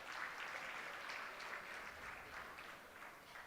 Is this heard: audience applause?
yes